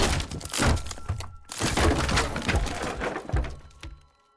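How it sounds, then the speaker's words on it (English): Jason smashing through a wooden closet in the game Friday the 13th: loud, dense bursts of thumping, cracking and splintering wood in two main waves, with a brief gap between them, fading out at the end. "Here's a clip demonstrating how you can destroy a closet a few seconds quicker."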